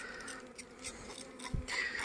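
Honeybees buzz softly at a hive being set up as a queen-rearing starter colony, a low continuous hum that stays faint and steady throughout.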